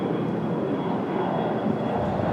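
A departing British Airways airliner passes almost directly overhead, producing a dense, steady rumbling roar at even loudness throughout with no voices.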